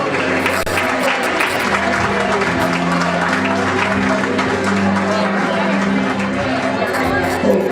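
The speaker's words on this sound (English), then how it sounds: "Let's give a big round of applause" A crowd applauds steadily, clapping filling the room while voices talk and murmur over it.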